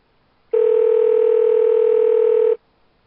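A phone call's connecting tone plays as one steady two-second hum, loud and alone, starting and stopping abruptly.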